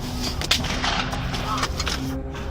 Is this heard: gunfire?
yes